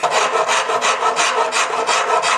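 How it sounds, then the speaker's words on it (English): A very coarse rasp scrapes wood from a large mandolin neck in fast, even strokes, each pass a loud, close, gritty rasping sound repeating steadily with no talking. "I'm taking a very coarse rasp first. This is very coarse, because we need to remove a lot of wood."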